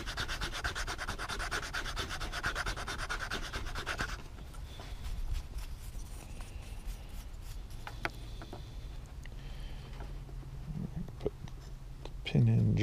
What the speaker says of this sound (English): Let's use the coarser sandpaper.